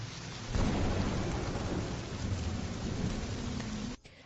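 Heavy rain pours down steadily on a graveyard, a dense, loud wash of drops with a low rumble beneath, holding constant before cutting off abruptly near the end.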